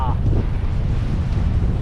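Strong, steady wind roars across the microphone aboard a sailboat moving through the Netherlands at about 22 knots of wind, with low rumbling buffeting throughout and no voices.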